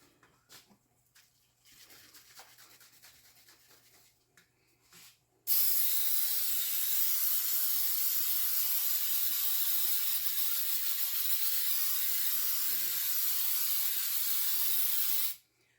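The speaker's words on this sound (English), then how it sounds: "let's spray our pan" A long, steady spray of cooking spray onto a cake pan hisses loudly and continuously for about ten seconds after a few quiet handling clicks.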